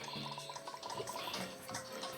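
Running water pours from a tap in a sink with a soft, continuous splashing trickle, faint and close, with no voices.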